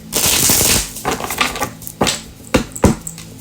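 Tarot cards are shuffled by hand in a quick riffle at the start, followed by a few separate slaps and taps as cards are laid down, close and fairly loud.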